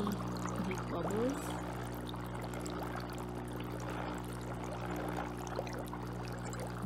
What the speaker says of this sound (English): And now I'm putting on the bubbles, so you can see the bubbles.